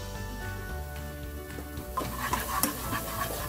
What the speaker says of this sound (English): Just continue stirring this till the oil starts separating from the mixture.